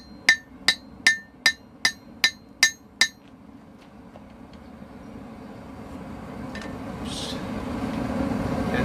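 Eight evenly spaced, ringing hammer blows from a peen striking hot steel while forging tongs, followed by a steadily rising roar, likely from a forge fire or blower, with no further strikes.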